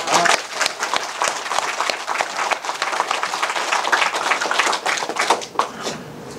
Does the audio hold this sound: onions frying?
no